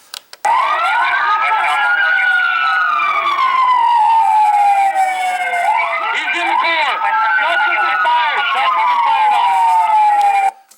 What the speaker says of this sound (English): There's 14 sirens.